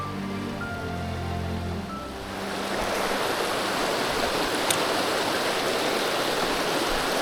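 A highland stream in Finnmark rushes steadily over rocks, its broadband wash swelling after a quieter opening moment and then holding loud and continuous, with no voices present.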